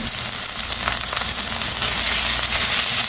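Mixed garden greens frying in a pan with browned onions, a steady, close, bright sizzle with light stirring throughout.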